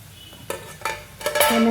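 Caramel snacks fry in hot oil with a soft sizzle, while a utensil stirs and clinks against the pan in three or four quick strokes.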